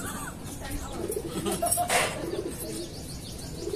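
Young pigeons in a loft give soft cooing calls and brief chirps, with a faint flutter of wings, fairly quiet and close against a low background.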